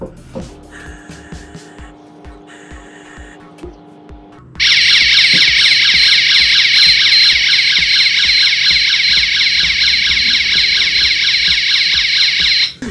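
A FIX800 fixed multi-gas detector drives an external warning beacon that sounds a loud, steady electronic alarm tone. The alarm starts abruptly partway through and holds continuously to the end, after quieter mechanical clicks and faint tones.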